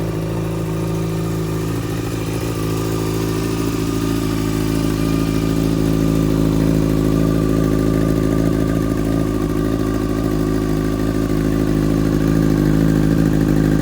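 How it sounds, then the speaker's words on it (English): A 2007 Yamaha FZ6N motorcycle with aftermarket exhausts idles steadily, a loud, close, continuous low rumble with a faint mechanical clatter throughout and no talking. "this sounds like a great bike. And it's particularly down to these aftermarket exhausts."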